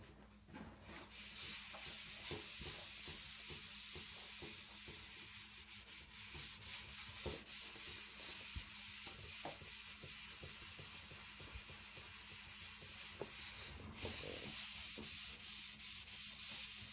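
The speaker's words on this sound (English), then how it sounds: "I'm not scrubbing very hard." Light scrubbing rubs over a tarnished vintage brass item in steady back-and-forth strokes, close and fairly quiet, continuing without pause.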